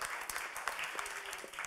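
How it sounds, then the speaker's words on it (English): A short burst of audience applause at a pitch competition, many hands clapping together in a dense, even patter with a few sharper claps standing out. "give them an applause too, of course, for their services"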